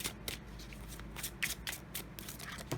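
Tarot and oracle cards are shuffled by hand, a soft, close series of papery riffles and slaps repeating in quick irregular bursts over a faint background hiss.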